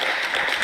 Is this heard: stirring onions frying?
no